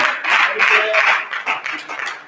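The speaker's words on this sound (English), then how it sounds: "I hope you're clapping because you examine yourself" A church congregation claps in a steady, dense patter of many hands, moderately loud and continuous with slight swells, with a few voices mixed faintly underneath.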